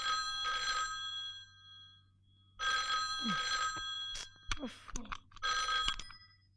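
A telephone bell rings in three separate bursts with pauses between in a 2002 Hindi film, and brief voice-like sounds come in the gaps; a steady low hum sits underneath.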